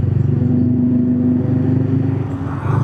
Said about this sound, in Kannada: Z900 ಆಗಿರ್ಬೇಕಂತ, ಸೌಂಡ್ ಆ ಥರ ಇತ್ತು.